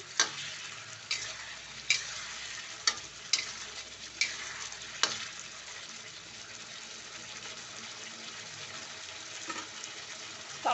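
Spices being stirred and sautéed with smashed tomatoes in a pan, a steady low sizzle with a string of sharp spatula scrapes and knocks in the first half, then a quieter even frying hiss.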